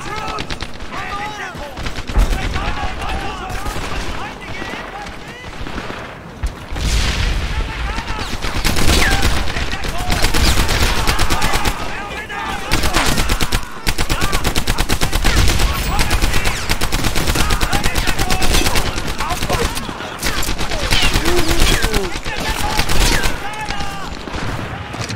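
Dense, loud bursts of German rifle and machine pistol fire crackle almost without pause in the WWII shooter Medal of Honor: Airborne, layered volleys and automatic fire under occasional game voices.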